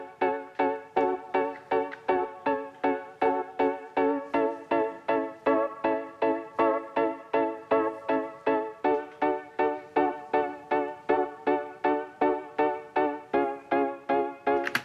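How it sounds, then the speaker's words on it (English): Piano part from a pop-soul production of a song, heard alone as steady repeated chords struck on every beat for about fifteen seconds, bright and close. "My next favorite element on this song will be the piano, and it sounds like this."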